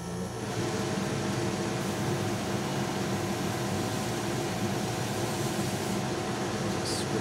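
A fan whirs nearby in a hobby workshop beside an airbrush, giving a steady broadband hum that stays level and unbroken throughout.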